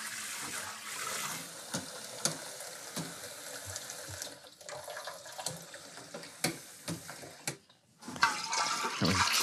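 Sanitizing solution runs through a siphon into a secondary fermenter for homebrewed dark ale, a continuous splashing, gurgling flow with intermittent knocks and sloshes, growing louder near the end.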